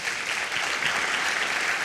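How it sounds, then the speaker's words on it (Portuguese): A church congregation claps together after a scripture reading, a short, even burst of moderately loud applause with no talking. "Você pode dar um aplauso à palavra do Senhor?"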